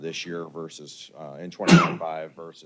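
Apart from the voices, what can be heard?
sneeze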